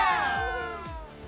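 An online church Easter event crowd of children and adults cheers and whoops loudly in a short burst that fades slightly, with children shouting within it.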